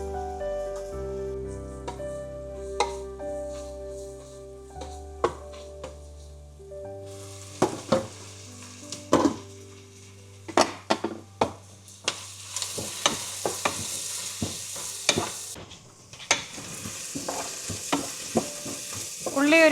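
Onions and ginger fry in a pan, a soft sizzle under irregular scraping and clinking stir strokes that grow busier and louder toward the end, with no talking.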